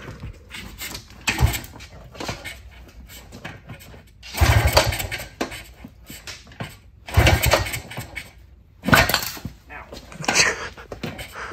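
A 1977 Kawasaki KD175 two-stroke motorcycle engine sputters in rough bursts, revving loudly then dying back, several times over, with quieter gaps between attempts.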